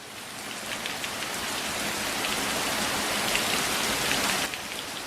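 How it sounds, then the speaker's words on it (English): A rain ambience track plays steadily during a board game stream, a constant hiss of rainfall on surfaces with scattered droplet patter, even and moderately loud for about five seconds. "I'm gonna put some rainy atmosphere on."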